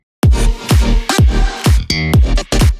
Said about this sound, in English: And then the slapped electric bass on its own sounds like this.